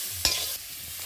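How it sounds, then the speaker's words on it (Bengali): Jackfruit seeds fry in a pan for a chorchori with sesame paste, giving a steady close sizzle, with one quick scrape of stirring near the start. "একটু ভালো করে ভেজে নিতে হবে।"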